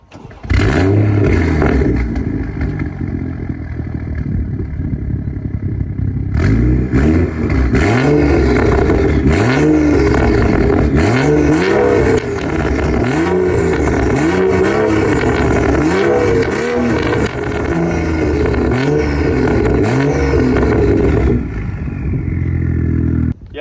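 Modified BMW M235i with the N55 engine revs hard and repeatedly, a loud, close, continuous run of rising and falling engine sweeps with no talk over it.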